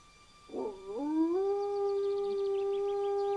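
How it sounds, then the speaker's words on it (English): A lone wolf in a Siberian forest lets out one long drawn-out howl, starting with a rough rise and then holding a steady, clear tone. It is loud and alone, with faint bird chirps far in the background. "Lone wolves seldom draw attention to themselves, but this long drawn-out howl will hopefully attract an unattached female."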